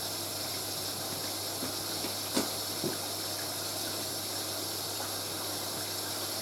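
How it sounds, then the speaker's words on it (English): Hot water streams steadily into a Hoover A3060 Electronic 1100 washing machine during a fast coloureds 60°C fill, a constant hissing rush with a couple of small clicks partway through. "the A3060 the machine does fill with hot water"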